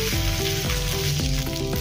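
A lacy rice-flour snack sizzles in a pan and is flipped, producing a continuous close frying hiss with light background music.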